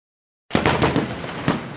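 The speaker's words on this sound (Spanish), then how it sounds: "La pirotecnia." Nochebuena fireworks and rockets burst abruptly out of silence in a quick cluster of loud, close cracks and booms, with a further sharp pop a moment later.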